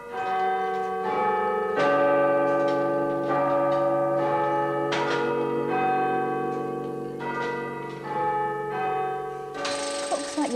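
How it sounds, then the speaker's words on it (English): A tower clock's chime mechanism rings the Westminster chime up close, with a series of loud bell strikes that ring on and overlap as they decay, plus faint mechanical clicks near the end. "the far section is the chimes that does the Westminster chime"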